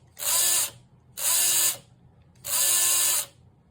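Electric motor of a scratch-built Indy car model whirring in three short bursts of about half a second each, a high buzzing whine starting and stopping abruptly, close and loud with quiet gaps between.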